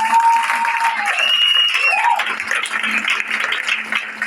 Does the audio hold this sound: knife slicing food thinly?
no